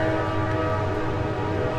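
A train rumbles past nearby, loud and steady, its horn sounding as a sustained tone over the rolling of the wheels.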